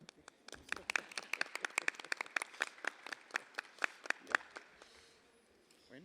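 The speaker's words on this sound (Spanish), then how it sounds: "un aplauso, ¿no?" At a public hearing on a general water law, a small audience gives brisk, scattered applause, clearly separate claps in a loose rhythm that thin out and stop near the end.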